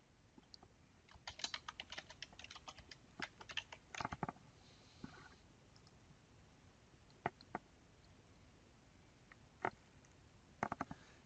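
Someone types on a computer keyboard to log in, with quiet, scattered clusters of key clicks and short pauses in a hushed room.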